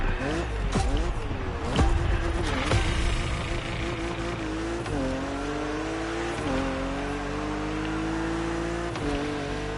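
BMW Z4 convertible in The Crew Motorfest, its engine droning steadily with rising and falling revs and shifting pitch, under continuous talk throughout.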